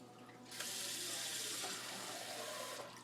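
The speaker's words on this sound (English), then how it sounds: "Pour the water off." Rinse water pours steadily off homemade butter kneaded in a Vitamix, a close, continuous splashing rush that starts abruptly and runs about two and a half seconds before tapering.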